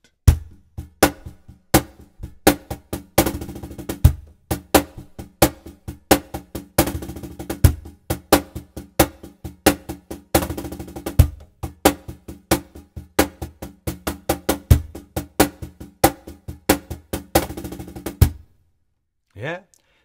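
Cajon playing a Ciranda rhythm with a roll, a steady pattern of sharp slaps and deep bass thumps with quick bursts of rapid strokes, loud and close, alone for about eighteen seconds before a short pause and a brief voice.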